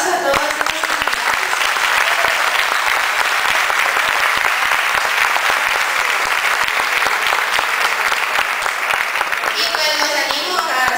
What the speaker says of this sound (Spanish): Entonces denle un aplauso a todos.